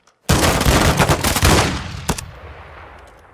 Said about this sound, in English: Swiftor says, fire one shot.